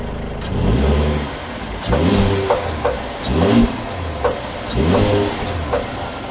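A 2022 Mercedes GLS 450 4Matic SUV sets off with a mid-pitched engine note that rises and falls in repeated acceleration pulls, as if shifting through gears. The sound is heard from inside the car.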